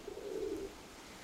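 Domestic pigeons cooing at a dovecote: a single low, soft coo rises and fades over about half a second, close by, with no talk and only quiet background after.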